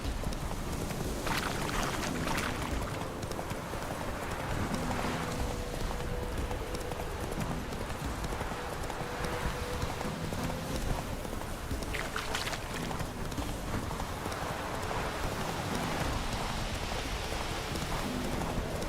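Roach the horse trots along in The Witcher 3, hooves clip-clopping in a steady rhythm at low volume over a soft ambient wash of background noise.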